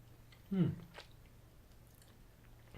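A single soft bite into an M&S sticky toffee pudding bite with caramel, followed by a brief wet, squishy chew, close and quiet, then faint chewing noises and near silence.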